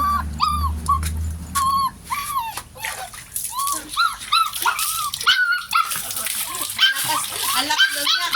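Bogs the dog whines and cries loudly in repeated high yelps while swimming in water on its first swim, with splashing underneath and people talking nearby.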